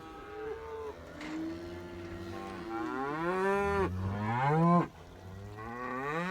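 Beef cattle on a farm, a herd fed sorghum silage, moo repeatedly in long, loud bellowing calls that rise and overlap, several animals close by with little pause between calls.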